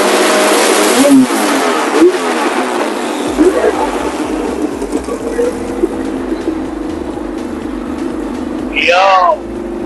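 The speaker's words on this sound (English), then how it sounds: "Man, that was the loudest car I've ever seen in my life." A very loud car engine at a Cayman Islands car show revs hard in repeated pulsing bursts, a deep rhythmic throb throughout, with people talking nearby and a brief bird-like chirp near the end.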